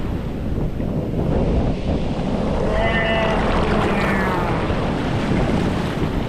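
Steady roar of Pacific Ocean surf and wind on an open West Coast beach, constant and loud, with a few faint whistling tones drifting over the noise.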